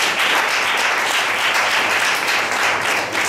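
Full, sustained applause from wedding guests at a civil marriage ceremony, loud and evenly dense from start to finish, with no talk over it.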